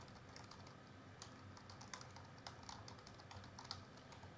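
An email address is typed on a computer keyboard, producing faint, scattered light key clicks over a steady background hiss, with no voices.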